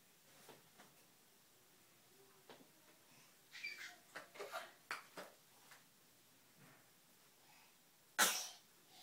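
A baby in a crib sneezes once, sharp and close, near the end, after a series of soft breathy coughs and fusses.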